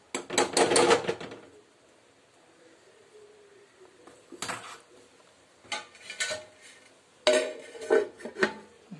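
A lid clatters onto a cooking pan of chilli soya, preceded and followed by scattered metallic clinks and kitchen handling noises with quiet gaps between.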